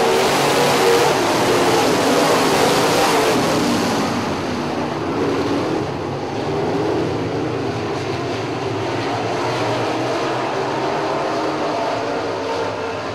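Modified race cars roar past on an oval racetrack in a loud, continuous wash of engine noise that swells at first and then settles into a steady, slightly distant drone.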